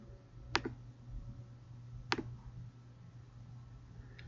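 Two sharp, isolated clicks of a computer mouse, roughly a second and a half apart, sit close over a quiet background hum, with no voices.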